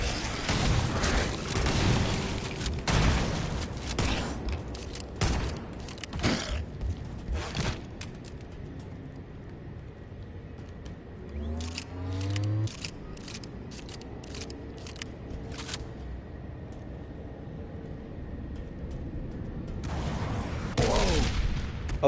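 Gunfire and explosions in the Halo: Campaign Evolved video game, dense bursts of shots and booms early on, then quieter stretches with scattered blasts and a final loud flurry.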